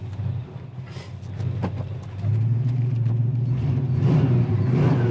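A 1972 Plymouth Satellite engine rumbles as it drives along the road, growing louder and steadier midway as it accelerates, with a low whirring drone.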